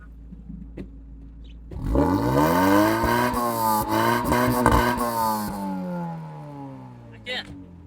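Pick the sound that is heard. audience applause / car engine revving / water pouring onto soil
car engine revving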